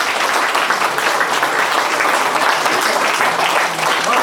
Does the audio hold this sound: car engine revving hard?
no